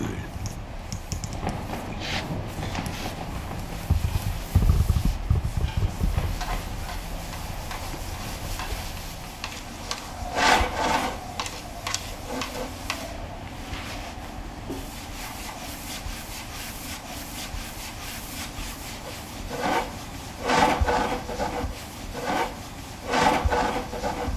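A wooden drum shell is hand-sanded in a workshop with sandpaper, giving continuous soft rubbing and scratching strokes in uneven rhythm, at times sharper and brisker, with quieter stretches between passes.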